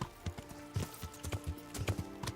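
Horse hooves clip-clop in the medieval video game Kingdom Come: Deliverance, a steady, fairly quiet walking rhythm of repeated thuds over soft ambient background.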